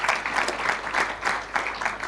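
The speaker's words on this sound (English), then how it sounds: "a big round of applause" An audience at a trade forum applauds the panelists, a dense wash of many hands clapping steadily throughout, fairly close and unbroken.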